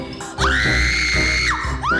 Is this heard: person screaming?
yes